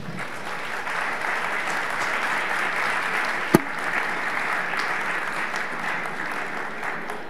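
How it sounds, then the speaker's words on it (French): An audience at a renewable energy conference applauds the speakers, a steady, even roar of clapping that continues for several seconds, with a single sharp knock standing out midway. "on peut applaudir nos intervenants"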